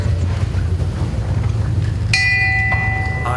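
A tolling bell at a Founders' Day convocation, struck once with a bright metallic clang that rings on with sustained overtones over a low steady rumble.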